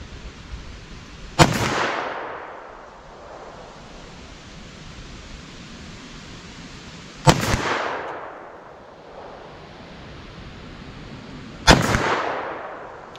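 Three sharp 10mm pistol shots fired at an outdoor hunting-style target using Hornady Custom XTP ammunition, spaced several seconds apart, each a loud crack with a long echoing decay over steady background hiss.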